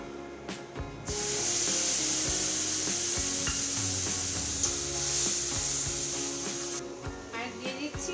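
Dry chillies, bay leaf, cardamom and spices hit hot oil with a loud, bright sizzle that bursts in after a second, hisses steadily for several seconds, then drops back to quieter crackling amid scattered utensil knocks.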